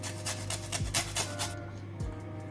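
Lime zest rasped on a grater, a quick series of about eight scraping strokes followed by a pause and one last stroke, close and alone.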